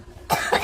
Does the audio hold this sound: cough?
yes